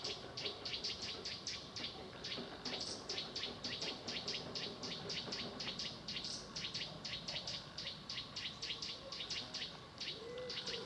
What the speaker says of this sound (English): There's the warning note of something up there. I don't recognise it. Possibly a warbler of some kind.